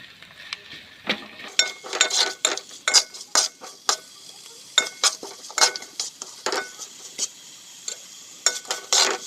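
Sliced onions cook in a pan with curry leaves and salt while a metal spoon stirs, giving repeated clinking scrapes against the pan in an uneven rhythm over a faint sizzle. No talking.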